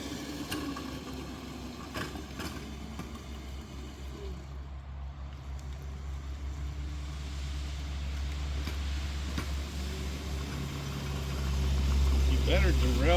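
A 7.5-inch gauge model locomotive runs on its throttle with a low steady engine drone that swells toward the end. People talk over it.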